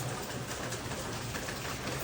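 Rain falls steadily on garden plants, including gongura and hanging pots, making a soft, even patter that continues throughout.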